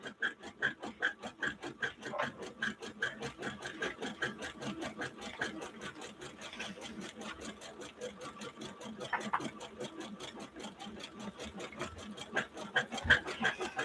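An embroidery machine stitches a Mylar design for a wedding quilt, a steady rapid mechanical needle rhythm running continuously at close range, with occasional louder clicks.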